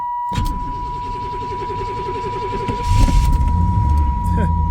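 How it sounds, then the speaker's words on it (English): A Pontiac Firebird is turned over with the keys: the starter cranks for a few seconds, then the engine catches with a loud burst and settles into a rough idle, while a steady tone runs underneath. "Firebird, so she fired right up"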